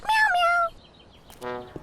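A cartoon cat meows loudly once, a drawn-out falling cry, then a shorter, quieter second meow follows after a brief pause.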